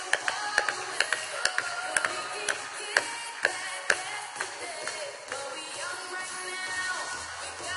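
Scattered hand claps from a small audience ring out as a series of sharp, spaced hits that thin out and fade, with music softly underneath.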